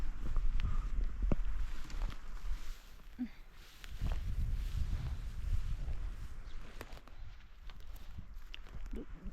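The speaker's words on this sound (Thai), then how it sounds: "โอ้ ลมแรง" Strong wind rushes through a high mountain forest in gusts, buffeting the microphone with low rumbling and swelling then easing, mixed with scattered rustles and knocks nearby.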